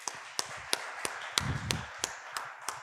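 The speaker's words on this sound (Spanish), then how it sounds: "¿qué le parece si le damos un aplauso al Señor?" Sparse, evenly spaced claps at a church service in Uruguay, sounding thin and fairly quiet rather than a full congregation ovation, with a low rumble partway through.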